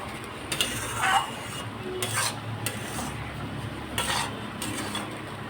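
A thickening sweet for a Loknath puja offering is stirred in a pan, giving repeated scraping and clinking of a spatula against metal over a faint low sizzle, in irregular bursts.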